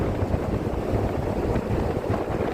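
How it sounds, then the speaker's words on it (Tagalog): Strong wind gusting near an island during a night storm in Saudi Arabia, a loud, steady broadband roar with buffeting rumble, heard alone without talk. "Malakas ng hangin guys."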